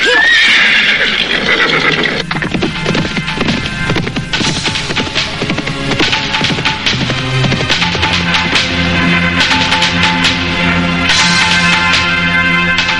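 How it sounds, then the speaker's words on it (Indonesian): Horses whinny loudly and hooves clip-clop as riders gallop toward a palace gate, the neighing up front over a rhythmic thudding gait and a dramatic background score. "Kedua remaja itu memacu kudanya hingga tak jauh dari gerbang istana."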